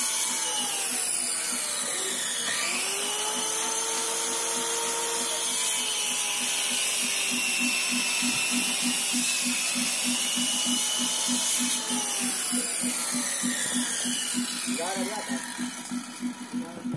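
A power tool cuts and trims a wooden grave marker board, a steady high buzzing with a rapid vibrating rhythm that holds for most of the span and then eases off, with a voice talking under it.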